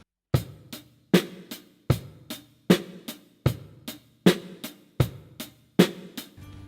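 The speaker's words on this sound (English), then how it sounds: "And this is how it would sound like on the drum set." A basic drum beat on a drum set, steady and close, with regular strong low kick-and-snare hits about every 0.8 seconds and lighter strokes between them, played alone with no talking.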